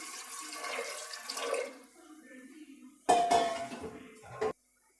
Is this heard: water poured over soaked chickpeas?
yes